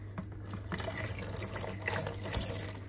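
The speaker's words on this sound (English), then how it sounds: "So let's go and crack the valve on the hose." Water runs steadily from a cracked valve on a homebrew cooling hose, a constant close hiss and splash with faint drips and a low hum underneath, at moderate volume and without speech.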